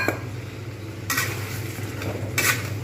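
Prawns dropped into a pan of fried spices and stirred for prawn malai curry, a soft sizzle under two bursts of scraping and clattering from utensil against pan, close.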